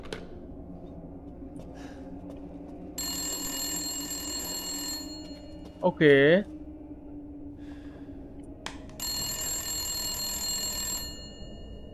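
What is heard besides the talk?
telephone ringing in Resident Evil Village video game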